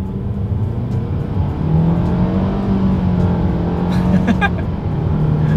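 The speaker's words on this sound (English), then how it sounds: "Let's see how quickly we can get this one here up to speed." A 2022 Mitsubishi Outlander SUV accelerating hard on a straightaway, a rising engine drone heard from inside the cabin, loud and sustained, with a brief voice near the end.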